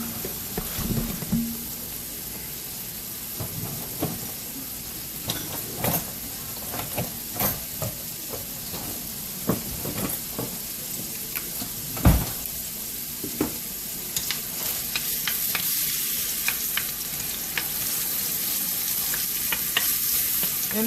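Onions fry in a pan for Cuban ropa vieja, a steady close sizzle broken by irregular scraping stirs and clacks of a spoon against the pan, one sharper knock midway, with no talking.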